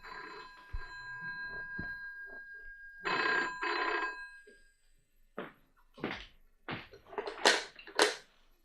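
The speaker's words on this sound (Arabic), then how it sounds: "اقوم انا ارد على التليفون" A telephone rings in an office setting, repeated bursts of ringing with pauses between them, fairly close, alone with no talk.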